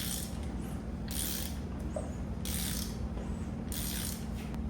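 A hand ratchet turns the crankshaft of a Chevrolet LS2 V8 engine on a build stand, making three short bursts of rapid clicking at a steady rhythm, close by and fairly quiet over a background hum.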